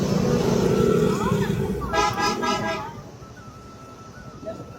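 A motorcycle with a punctured tyre idles and rumbles loudly at first, then fades, with a brief tonal beep midway and people talking close by over the engine noise.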